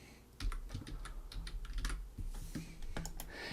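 Close, quiet clicking of fingers typing on a computer keyboard, a quick irregular run of keystrokes with brief pauses.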